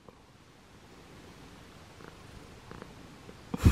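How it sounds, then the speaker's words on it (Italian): A kitten purrs softly and steadily while being cuddled, a low continuous rumble close by, ending in a brief louder rustle of movement. "coccole 2 secondi e partono subito le fusa"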